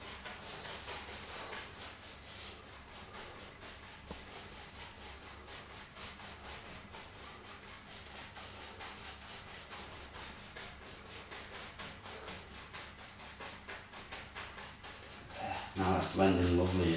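Brush making tiny crisscross strokes to blend a painted silhouette, a continuous soft rhythmic scrubbing close up, ending in a louder brief rustle.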